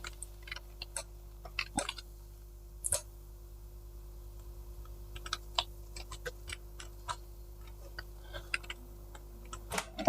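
Someone types a search on a computer keyboard, giving scattered sharp key clicks in short uneven bursts over a quiet background hum, with no talking.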